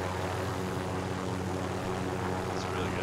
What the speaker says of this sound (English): You should just drop the chopper on them and parachute in.